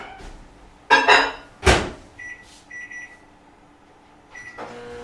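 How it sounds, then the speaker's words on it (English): A microwave oven melting a stick of butter in a home kitchen: its door thunks, keypad beeps sound, and then the oven starts with a low hum, all fairly close and without talk. "1 stick of butter, we're going to melt in the microwave."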